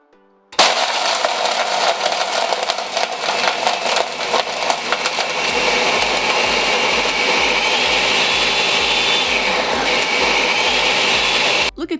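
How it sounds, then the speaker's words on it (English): A 2018 Ninja 1100-watt professional blender starts abruptly and roars loudly while crushing ice, with grinding and rattling at first that smooths into a steady high-speed whir before cutting off. "this blender totally crushed this ice like snow"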